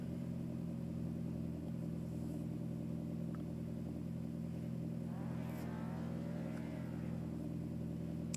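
Racing car engines in a touge mountain-road battle game, a steady droning hum with a brief rising rev and faint tyre-like whine in the middle, moderately distant and continuous.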